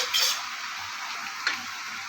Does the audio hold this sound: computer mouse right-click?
no